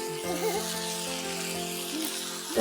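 Soya chilli chicken sautés in a pan with a soft, continuous sizzle that sits beneath a steady tonal hum, with a brief louder burst near the end.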